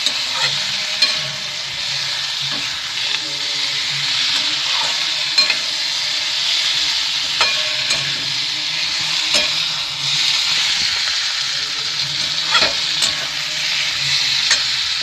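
Flat beans fry in a pan with garlic paste while being stirred, producing a continuous close sizzle broken by repeated scraping and clinking strokes of the spoon at an irregular rhythm.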